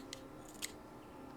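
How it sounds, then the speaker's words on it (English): Scissors snip in the video game Habromania: two crisp, quick cuts, near and fairly faint, over a low steady background with no talk. "my shiny pair of scissors should make quick work of this"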